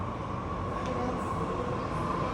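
Steady rumbling hum of a Mumbai metro train moving along a platform, a continuous mechanical drone with a faint whine, no distinct voices.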